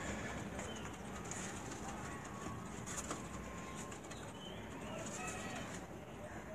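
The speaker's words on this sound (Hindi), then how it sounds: "ये जो कबूतर मैं आपको दिखा रहा हूँ" Racing pigeons kept at a loft in Gujranwala, cooing softly amid steady low background noise and a faint bird chirp, distant and quiet with no clear voices.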